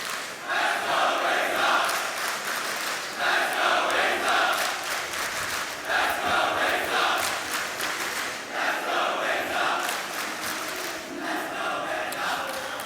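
A large arena crowd at a Counter-Strike esports match at ESL Challenger Melbourne chants in rhythmic waves, swelling and falling in regular pulses of loud cheering, with no commentary over it.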